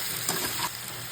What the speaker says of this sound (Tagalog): Igisa ang bawang, sibuyas.